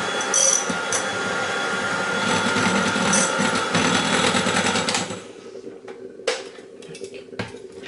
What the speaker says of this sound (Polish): i cały czas mieszam.